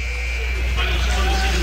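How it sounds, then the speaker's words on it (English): End-of-game buzzer in an ice hockey arena at Steel Hall during a Fredonia vs Geneseo men's college game, a steady tonal blare sounding through crowd noise and commentary. "As the buzzer sounds."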